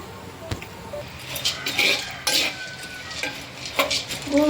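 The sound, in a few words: sweet mixture being stirred and roasted in a pan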